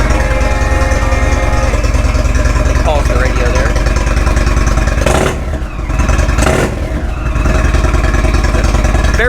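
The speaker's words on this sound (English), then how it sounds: "There's that deep exhaust note I was telling you about. It's a very distinct sound." A 2016 Indian Roadmaster motorcycle with its Thunderstroke 111 engine runs with a deep, steady exhaust note throughout, briefly dipping midway, while someone talks over it.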